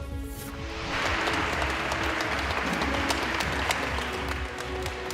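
A crowd in a courtroom breaks into sustained, dense clapping that rises quickly and continues steadily indoors.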